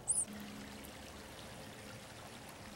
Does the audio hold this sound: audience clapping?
no